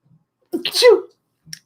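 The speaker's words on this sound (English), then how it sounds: "I'm about to sneeze" One loud, close sneeze with a sharp intake of breath before the burst, then a short faint sound after.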